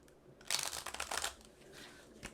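Tarot cards are shuffled by hand in a brief close burst of riffling and papery slaps lasting about a second, trailing off into softer rustles and one final tap.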